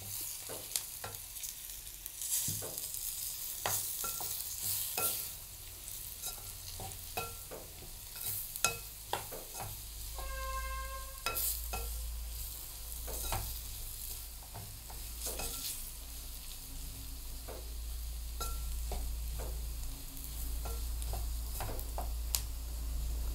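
Pandan and curry leaves fry and sizzle steadily in a pan, with a utensil stirring them now and then. The sound is close and continuous, and no one speaks over it.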